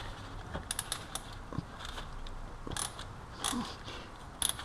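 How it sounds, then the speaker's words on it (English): Swivel ratchet tightening the oil drain bolt on a Kawasaki Ninja 300 during an oil change, giving short bursts of close, faint clicking with brief pauses between strokes and no talking. "So this is where the handy stubby wrench comes in handy, the swivel wrench."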